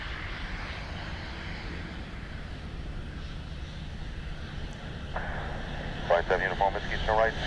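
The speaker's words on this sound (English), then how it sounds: "that's an AA from Chicago, 787. They're moving again now." An American Airlines Boeing 787 from Chicago taxiing at Dublin Airport, a steady low jet engine rumble and hiss holding throughout, with brief distant radio chatter near the end.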